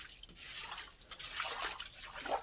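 Leftover water being tipped out of a freshly washed tank, a faint close-up trickle and splash that runs continuously with small sloshing surges, with no talking over it.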